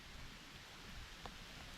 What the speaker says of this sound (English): I'm gonna go get out of this rain